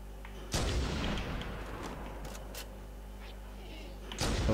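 Gunfire in the Halo game on Xbox One, with a heavy booming shot followed by a rumbling decay, scattered softer pops, and another blast at the end over a low, steady background hum.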